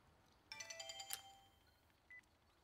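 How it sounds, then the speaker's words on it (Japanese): Phone ringing as a call is placed, a faint, brief electronic ringtone of a few quick tones in a quiet room, followed by a short beep. "電話してみる。"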